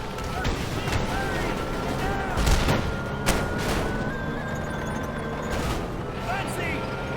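Gunfire and explosions in the video game Mercenaries 2: World in Flames, with repeated sharp shots and a couple of heavy booms over constant mechanical rumble, while voices talk over the battle.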